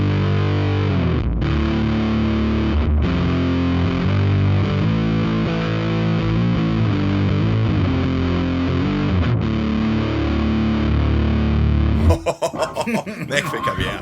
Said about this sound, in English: it's a rat style pedal